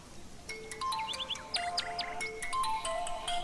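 A phone ringtone plays a bright, repeating electronic melody of short tonal notes over a steady low background hiss, fairly faint, with no talk.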